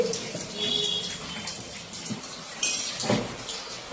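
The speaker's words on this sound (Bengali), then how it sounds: "এ দেখো দুজনে কেমন জলে চান করছে।" Two parrots bathe in water, making soft continuous splashing and trickling with brief sharper splashes, close by, with faint voices now and then.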